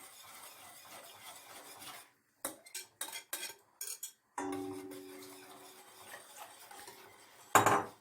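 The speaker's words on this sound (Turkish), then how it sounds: "sürekli karıştırarak kaynayana kadar pişirmeye devam ediyorum." Spoon scraping and stirring yogurt soup inside a pot, a quiet swish, then a few clinks and rubs against the metal, ending with a sharp clatter.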